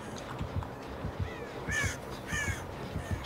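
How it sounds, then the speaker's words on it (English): Crows caw repeatedly in the horror video game Dead by Daylight, two bursts of harsh cawing over a low rhythmic ambient pulse, with no talking. "Shut up, crows."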